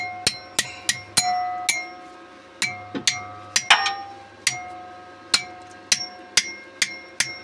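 Repeated sharp metallic hammer blows on a welded gearbox part of a Range Rover P38 2.5 diesel, struck in an uneven rhythm of about sixteen ringing hits, close and loud, with no talking.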